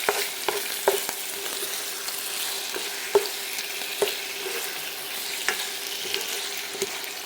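Chicken giblets sauté in a pan with a steady, bright frying sizzle, while a utensil scrapes and taps against the pan every second or so.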